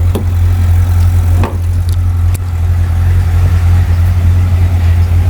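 A 2009 Chevrolet Corvette Z06 2LZ V8 engine runs steadily at idle, a loud continuous low rumble close by with a few light knocks, and no one speaking over it.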